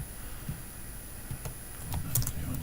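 Typing on a computer keyboard to enter a ping command, a series of soft scattered keystrokes at close range with no talking.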